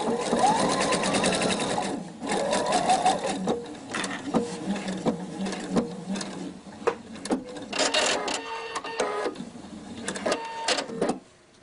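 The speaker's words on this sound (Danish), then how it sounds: "Og så syr jeg simpelthen fra sidste sting" A sewing machine stitches a kimono seam in bursts, a close motor whir and needle clatter that starts and stops several times, with clicks and handling noises in the pauses.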